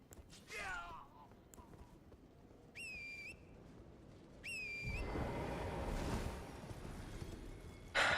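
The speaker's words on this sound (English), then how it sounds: "having to whistle for Torrent twice in a row in order to use Torrent" A rider whistles twice for the spectral horse Torrent in Elden Ring, two short sharp rising whistle tones close together, followed by a soft whooshing swell as the horse appears, with faint game sounds around.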